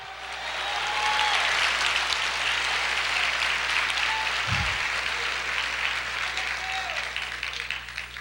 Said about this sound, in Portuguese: Aplauda o Senhor, diga aleluia!